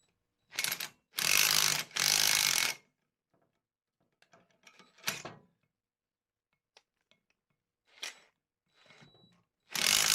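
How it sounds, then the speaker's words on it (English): Puller pressing a U-joint cup into a Dana 60 axle yoke, heard as several loud bursts of ratcheting, grinding mechanical noise separated by quieter clicks, taps and scraping, with one harsh burst at the end. "So I'm going to start with just the puller"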